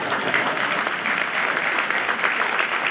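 A congregation claps throughout in sustained applause, a busy, continuous patter of many hands, moderately loud and steady with slight swells.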